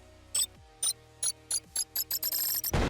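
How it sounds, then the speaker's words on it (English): Short electronic video game grenade beeps repeat alone, spaced apart at first and then coming faster and closer together, ending in a burst of noise. "added a grenade model that had this kind of cool beeping sound"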